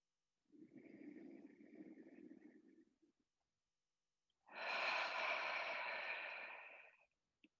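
One deep breath during a theatre centering warm-up on the floor: a soft, breathy inhale lasting a couple of seconds, a short pause, then a louder, fuller exhale, close and alone.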